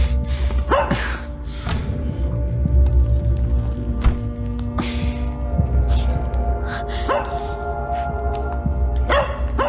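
A puppy barks in a dubbed film scene with short, sharp yaps scattered across the passage. The barks are moderately close and sound over a low, steady background hum and tones.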